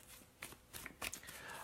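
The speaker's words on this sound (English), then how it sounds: "I am shuffling up the cards." Tarot cards being shuffled by hand in short papery riffling bursts, fairly soft and close, with brief pauses between bursts and no talk over them.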